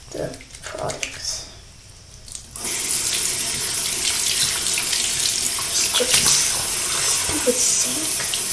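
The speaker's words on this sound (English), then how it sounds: "Stupid sink." Water gushing steadily from a sink tap in a bathroom, a loud close hiss that starts after a few seconds of fainter noise and keeps pouring to the end.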